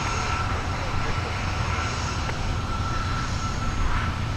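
An American Airlines jet rolls for takeoff at Minneapolis–Saint Paul airport, a broad, steady engine roar with heavy low rumble heard from a distance, while a voice talks over it.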